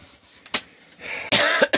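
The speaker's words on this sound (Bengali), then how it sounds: "কাশি" A person on a Sandakphu trek coughs in several harsh, close bursts, with brief quiet gaps between them.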